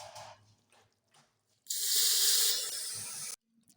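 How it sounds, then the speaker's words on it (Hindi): Coloured water poured into roasted semolina in a pan for suji halwa, a sudden loud hissing splash lasting under two seconds after a few quiet kitchen clinks, then stopping abruptly. "अब इसमें हम पानी डाल देंगे जो हमने कलर डालकर रखा हुआ था"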